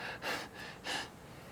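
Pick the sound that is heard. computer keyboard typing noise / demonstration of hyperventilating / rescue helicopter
demonstration of hyperventilating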